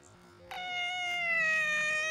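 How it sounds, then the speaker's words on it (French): A cat's slowed-down meow, stretched into one long, low, drawn-out tone that starts about halfway through and holds steadily to the end over faint background noise. "Il miaule au ralenti."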